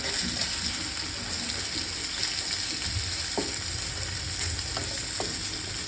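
Paneer fries in oil and butter in a hot pan, giving a continuous close sizzle with a few light clicks of stirring against the metal.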